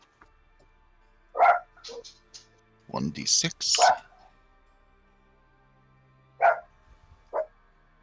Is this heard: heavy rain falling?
no